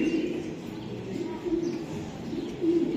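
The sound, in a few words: cooing racer pigeons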